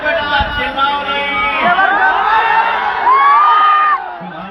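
A large audience at a stage show yells and cheers loudly and continuously, with many overlapping shouts and whoops forming a dense wall of crowd noise.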